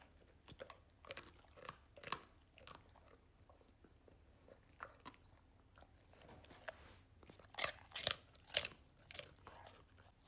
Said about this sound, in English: You like crunchy treats like that.